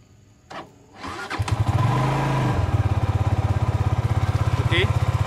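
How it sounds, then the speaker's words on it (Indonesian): A Benelli TNT 25 motorcycle engine cranks briefly, catches and revs, then settles into a steady, throbbing idle close by. "Untuk Benelli ni, dia ada satu identiti untuk enjin Benelli, iaitu bunyi enjin dia."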